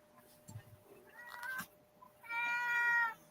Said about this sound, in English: I love that. That meow.